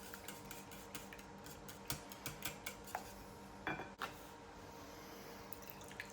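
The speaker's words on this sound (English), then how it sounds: "Whisk that in and around." Eggs and butter whisked in a bowl, a quick run of light metallic ticks and clinks from the whisk against the bowl, faint and close, with a couple of sharper knocks.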